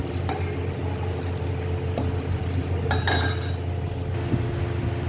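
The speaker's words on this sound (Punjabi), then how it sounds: "ਫਿਰ ਆਪਾਂ ਇਸ ਨੂੰ ਚੰਗੀ ਤਰ੍ਹਾਂ ਮਿਕਸ ਕਰਾਂਗੇ" Besan barfi mixture with food colour and ground cardamom is stirred in a metal pan, making a steady low scraping with occasional sharp clinks of the spoon against the rim, close and fairly loud.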